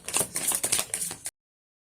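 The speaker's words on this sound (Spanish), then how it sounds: "ahora vamos a barajar con el tarot del legado de lo divino" Tarot cards are shuffled by hand, a quick run of crisp papery riffles and flicks, close and clear, ending abruptly into silence.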